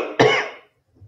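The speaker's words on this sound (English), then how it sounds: "The cough hasn't gone away yet." A single sharp, close cough, loud at first and quickly trailing off into quiet.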